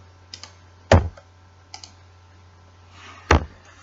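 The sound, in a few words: pressing computer keyboard arrow keys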